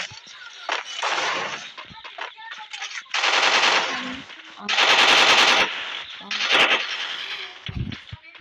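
Rapid automatic gunfire in the mobile shooter game Free Fire, loud sustained bursts alternating with shorter volleys and single shots across the whole stretch.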